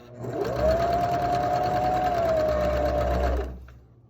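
A sewing machine stitches a seam along a fabric face mask, its steady motor whir running unbroken for about three seconds, loud and close, before stopping abruptly.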